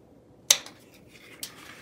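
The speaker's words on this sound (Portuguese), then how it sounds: "fazer um pique aqui no meio" Scissors snip a notch into fabric while sewing a men's toiletry bag: one sharp, close cut followed by a fainter second snip, quiet and without talk.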